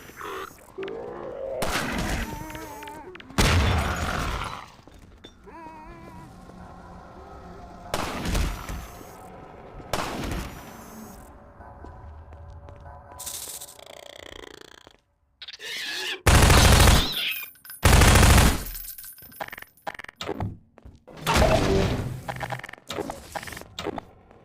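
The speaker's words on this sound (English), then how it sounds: "It also gives the player a chance to watch zombies get sniped up close and from various angles." Sniper rifle shots at zombies in the Half-Life 2 Episode 1 video game come as sharp, loud cracks in irregular bursts, with quieter rumbling and rustling game ambience in the gaps between them.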